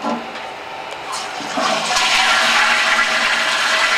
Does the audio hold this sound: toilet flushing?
yes